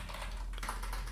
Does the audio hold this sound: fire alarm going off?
no